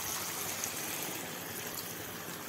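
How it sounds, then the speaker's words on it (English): About half a cup of water pours into a pan of bitter gourd and potato curry with garlic, a soft continuous splash and trickle, close but faint, with no talking. "I'm going to add some little water"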